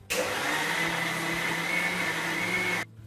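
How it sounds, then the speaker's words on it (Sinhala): An electric blender whirs steadily for nearly three seconds, mixing oil and fresh milk for eggless banana bread, then cuts off abruptly. "දැන් මේ සියල්ල හොඳින් බ්ලෙන්ඩ් කරගන්න ඕන."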